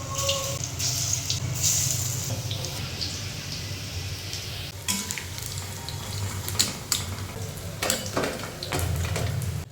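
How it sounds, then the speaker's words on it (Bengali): Pakoras frying in hot oil give a steady crackling sizzle, with occasional louder pops and scraping clinks of a utensil stirring the pan. "এখনও একে একে পকোড়াগুলো ছেঁকে নেবে। তেলটা তো বেশি করে দিতে বলে।"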